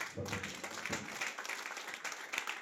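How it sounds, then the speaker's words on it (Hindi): Audience applause after a director's speech at a Rajasthani real estate event, a dense wash of clapping from a crowd holding steady throughout at moderate level. "बहुत जोरदार तालियों के साथ अरविंद सर के लिए बहुत जोरदार तालियां बजाई जाए।"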